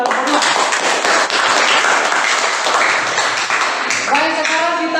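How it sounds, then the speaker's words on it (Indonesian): A group presentation audience applauding, a dense burst of clapping from many hands that fills the room, with a voice speaking over it near the end. "Jadi kita kasih aplaus dulu buat kelompok"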